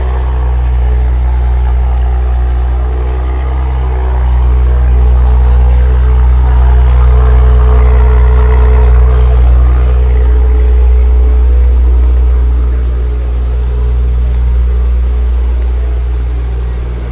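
A 2021 Acura TLX Type S drives on real roads, its engine and exhaust a loud, steady low drone heard from inside the cabin, swelling slightly under light acceleration and easing back, with no talking.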